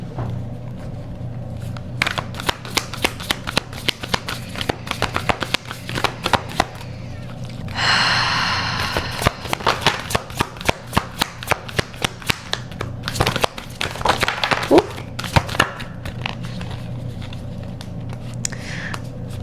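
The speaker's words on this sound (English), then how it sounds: "Sometimes my shuffling gets a little vigorous" Oracle cards are shuffled vigorously by hand in a rapid run of crisp riffles and flicks, close and loud, with one brief burst of sliding rustle partway through and pauses between bursts.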